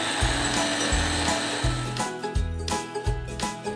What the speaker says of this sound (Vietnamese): Còn nút điều khiển này thì cũng chỉ cần xoay, giữ sang phải vài giây để xoay nhuyễn một mẻ đồ ăn